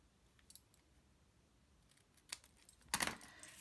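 Paper being trimmed for a handmade card, with faint, sparse snips and rustles that build to a sharper, louder cut near the end, close and quiet with no talking.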